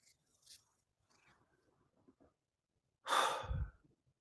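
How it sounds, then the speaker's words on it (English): A single long, loud breath drawn in during a guided meditation, a rushing inhale that swells and fades after scattered faint softer breaths and small sounds. "So if you take a breath in"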